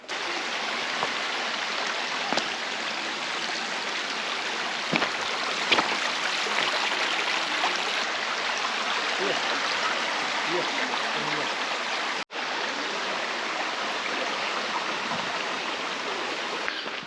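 A brook in the South Pennines rushes steadily over stones, a continuous close wash of flowing water that fills the whole stretch without pause.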